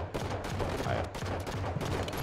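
Magnum pistol shots in a Halo 5 multiplayer match, a rapid series of sharp gunfire cracks layered over busy game noise, close and fairly loud.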